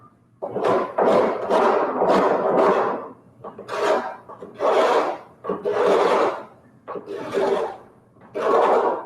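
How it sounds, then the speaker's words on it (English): A carbide scraper is dragged across the wood of a window sash in a series of loud, rasping strokes, about eight in a steady rhythm with short pauses between them. "This scraper is a carbide scraper."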